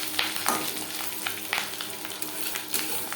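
Fish roe sizzles in two spoons of hot refined oil, a dense steady frying hiss broken by sharp crackling pops, close and fairly loud with no voices.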